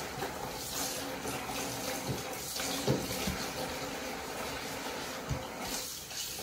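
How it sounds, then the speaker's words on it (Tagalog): Tap water runs steadily into a sink being cleaned at home, with a soft continuous rush, occasional clinks and splashes, fairly quiet and close, and no talking. "Linisin ko muna tong sink."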